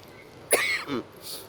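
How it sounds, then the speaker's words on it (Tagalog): A single short cough, close and fairly loud, followed by a softer throat-clearing sound, with quiet background otherwise. "Ubo-ubo na ko."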